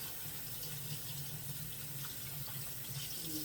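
Dried chili peppers rinsed under a running kitchen tap, a steady, continuous hiss of water splashing into a sink, close and fairly quiet, with no talking.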